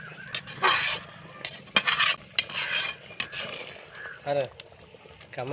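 Fried murrel fish is lowered into simmering dal with spinach for a fish sambar and stirred, with spoon scrapes and clinks against the pot over a soft bubbling sizzle, in bursts with brief pauses.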